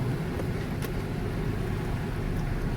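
A 2006 Chevrolet Impala is driven around a parking lot, its engine and road noise forming a steady low rumble from inside the car, with a faint click partway through.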